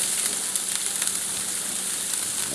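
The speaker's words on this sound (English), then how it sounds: "Now the onions, we're going to throw in there until they're nice and brown." Onions and carrots frying for chicken fried rice give off a constant, even, close sizzle, a dense crackling hiss that holds steady throughout without any stirring or speech.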